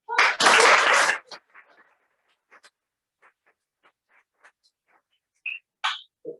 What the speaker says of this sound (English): And this applause is actually live applause.